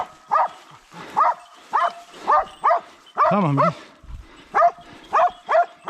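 Hunting dogs bark repeatedly in a wild boar hunt in the Black Sea region of Turkey, sharp close barks in an irregular rhythm with one longer howling yelp, while men call out commands between them.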